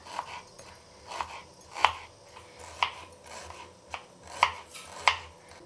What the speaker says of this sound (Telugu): టమాటా ఆల్రెడీ కట్ చేస్తున్నాను కదా